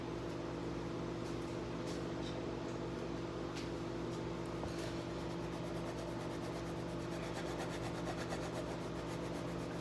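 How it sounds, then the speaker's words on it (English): A block of fresh Parmesan cheese is grated by hand, making a continuous rasping scrape that runs steadily and close up. No one speaks over it. "Very easy to lose a fingernail and a fingertip grating cheese"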